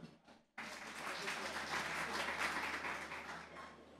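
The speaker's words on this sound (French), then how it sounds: "Je vous demande de l'applaudir." Applause from an audience erupts suddenly after a brief voice and continues as a dense, steady wash of clapping.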